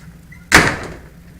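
A single loud door thud in the video game Subtext, one sharp close impact that quickly fades to quiet room tone.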